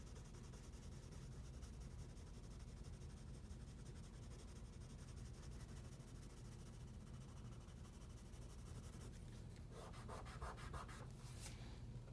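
Pencil shading strokes rubbing steadily on paper while drawing a blue jay's beak, a soft continuous scratchy hiss with quicker strokes near the end, close and quiet, no talking.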